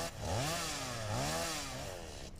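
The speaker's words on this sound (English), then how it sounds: "it sounds like someone's using a chainsaw 20 blocks away" A chainsaw-like machine whines in the Satisfactory factory-building game, its pitch rising and falling in repeated revving sweeps, moderately loud and alone, fading slightly at the end.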